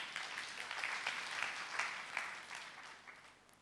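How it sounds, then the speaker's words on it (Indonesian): A congregation claps during a Sunday church service, a soft, fairly distant wash of many hands that holds steady and then tapers off toward the end. "tepuk tangan dulu"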